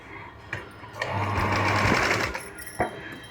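Sewing machine stitching the underside of a puff sleeve blouse: a short close whirring run of the needle, with a few clicks and handling knocks before and after. No one speaks.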